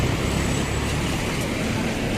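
Steady afternoon street traffic in downtown Davao, a dense continuous roar of car, bus and truck engines and tire noise, fairly loud and even throughout with no clear talk.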